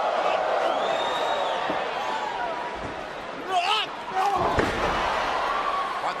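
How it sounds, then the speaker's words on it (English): A heavy slamming impact from a wrestler's drop kick in a WWF steel cage match, with thuds landing midway through over steady arena crowd noise while commentators talk. "Quite the drop kick"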